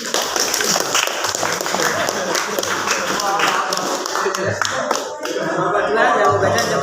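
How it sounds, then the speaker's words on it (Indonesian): A classroom group claps hands during a lesson on the steps of prayer, moderately loud uneven clapping under a teacher's talk, with some light laughter mixed in. "Ayo tepuk tangan."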